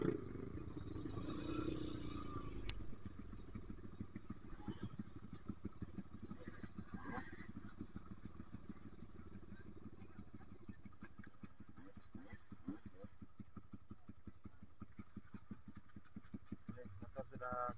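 A motorcycle straining on a slippery uphill dirt track during an off-road trail ride, its engine chugging in a rapid steady pulse at moderate distance, with occasional voices.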